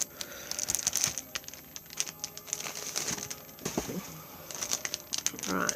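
Intermittent crinkling and rustling of a plastic bag holding craft paper as it is pulled open, crisp bursts in irregular clusters, with faint bird cooing in the background.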